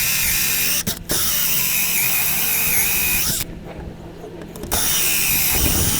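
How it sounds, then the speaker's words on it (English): A 2 1/8 inch hole saw bores through a wooden fence for a keyed door knob, a loud steady grinding whir that breaks off briefly twice, then dips and resumes. "And then I'm going to go ahead and drill it out. So this is with a 2 1/8 of an inch hole saw."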